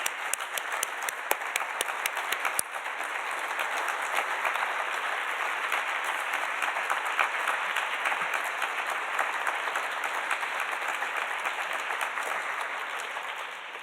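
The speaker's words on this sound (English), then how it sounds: "let's give them all a big round of applause" Audience applause at a panel event on global food insecurity, sustained dense clapping from a large crowd, starting with a few sharp individual claps and swelling into a steady wash lasting well over ten seconds.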